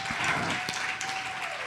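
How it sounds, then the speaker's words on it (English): A library audience gives a panel author a round of applause, a short burst of clapping from a modest crowd, steady and fairly close, with a faint sustained tone running underneath. "Can we give a round of applause?"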